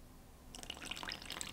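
Freshly squeezed lemon juice trickles into cake frosting, a faint, brief liquid splash and bubbling that begins after a moment of near silence.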